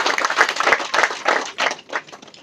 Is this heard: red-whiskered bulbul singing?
no